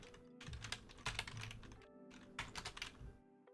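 Rapid typing on a computer keyboard, close and crisp, in uneven bursts of keystrokes with a short pause midway, no voices.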